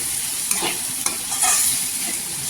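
Coconut masala stirring and frying in hot oil for a ghol fish curry, a steady close sizzle with a few sharp spoon scrapes and clinks against the pan.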